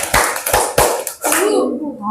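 Schoolchildren in a classroom perform the tepuk semangat clapping routine, a short series of sharp rhythmic claps close by, followed by a voice.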